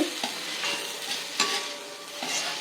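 A spoon stirs a brinjal and capsicum kara curry in a pan just after the stove is turned off, with several distinct scraping strokes over a soft lingering sizzle, close and alone.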